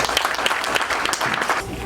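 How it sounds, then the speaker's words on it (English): An audience claps together at a Black History brunch, a dense, lively burst of applause close by that holds steady before easing off at the end. "So let's clap it up"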